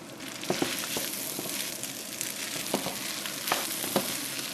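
Rice frying in a pan with garlic and turmeric for shawarma yellow rice, a continuous busy sizzle broken by repeated scraping stirs and light spoon knocks, close and fairly loud.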